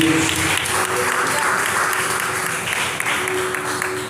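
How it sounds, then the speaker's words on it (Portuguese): A church congregation applauds during an evening service, a dense, steady wash of many hands clapping throughout, with a faint voice briefly audible beneath it. "Aplauda o Senhor Jesus esta noite."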